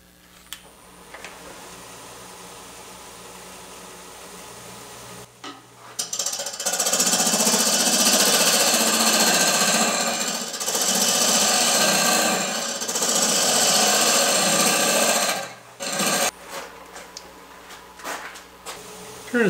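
A wood lathe turning at about 600 RPM hollows a wooden cube with loud, rough, broadband cutting and scraping that surges and pauses. A quieter motor hum sits before and after the cutting.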